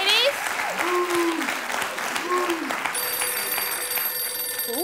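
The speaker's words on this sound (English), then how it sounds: "the phone's ringing" A telephone rings on a television talk show set, its repeated electronic tones heard over steady studio audience applause and crowd noise.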